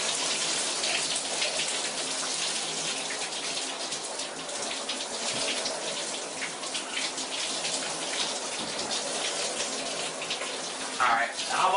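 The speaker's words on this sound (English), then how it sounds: "Trying not to get too much water outside of the shower" Shower water pours steadily and loudly in a continuous broadband rush with uneven splashing, close up, holding roughly level throughout with a brief disturbance near the end.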